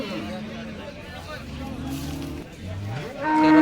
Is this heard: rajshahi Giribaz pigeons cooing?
no